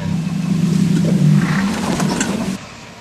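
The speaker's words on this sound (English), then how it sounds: "Let me give it a little gas and see if it stalls again." A supercar with a stalling fault has a strong low engine drone that swells as the throttle is blipped, then cuts off abruptly near the end, leaving quiet.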